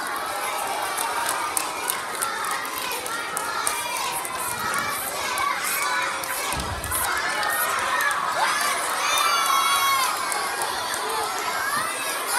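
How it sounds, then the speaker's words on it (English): Children's crowd at a school presentation shouts and cheers for a mosquito mascot, a dense, lively roar of young voices with excited shrieks that swells toward the end. "So can y'all cheer for Swatson?"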